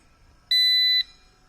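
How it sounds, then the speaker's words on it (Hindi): A charger's relay circuit, triggered by shorting two points on its FRC ribbon cable, gives a single clean electronic beep lasting about half a second, loud and close against a quiet background. "एक बीप के बाद आप उसको हटा सकते हैं।"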